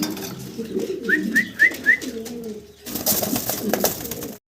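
Caged pigeons at a farm coo in a run of four quick rising calls, close and clear, followed by softer cooing and rustling amid general farm noise.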